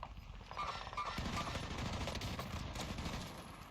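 Automatic gunfire from a hard-hitting gun in the video game Call of Duty Warzone, a dense continuous rattle of rapid shots filling the clip at steady loudness with no talk over it.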